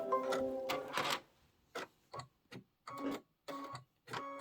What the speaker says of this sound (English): And then I'm going to hit start again, and that is going to do the quilting stitch for me.